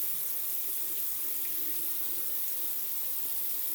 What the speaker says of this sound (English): I'm gonna wash my hands before I somehow get mascara everywhere that I don't want it.